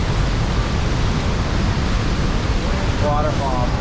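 Dense, steady roar of an Icelandic waterfall heard up close through drifting spray and mist. The broad rushing noise fills the whole stretch, with a brief voice near the end.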